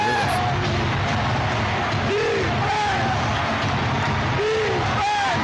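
An arena crowd at an NBA Finals game between the Mavericks and Celtics roars continuously, with whoops and shouts rising over the dense, loud crowd noise.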